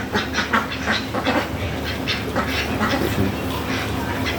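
Ducks quack repeatedly on a farm, a chorus of overlapping nasal calls at moderate distance against steady outdoor background noise, with no talk.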